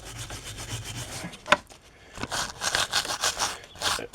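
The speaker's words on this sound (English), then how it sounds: "we'll clean up the faces on the caliper where the pads ride" Scraping a 2007 Chevy Impala's rear brake caliper faces where the pads ride, heard as irregular close rubbing and scuffing strokes with one sharp tick partway through.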